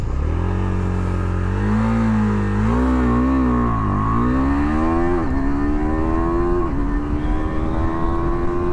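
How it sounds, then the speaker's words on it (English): A 2023 KTM Duke 390 motorcycle launches hard from a standstill. Its loud, close engine note climbs steadily and rises in pitch, breaking through several quick-shifter gear changes without stopping. No talking. "So now let's do a quick acceleration test on the KTM Duke 390."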